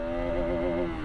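A Bajaj Pulsar RS200 motorcycle pulls away in first gear, its engine note close and loud with a rising, slightly wavering pitch over about a second.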